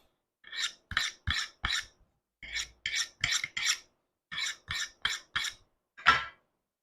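A knife blade drawn again and again across a sharpening surface, crisp rasping strokes in quick groups of three to four with short pauses between, close and clear with no talk.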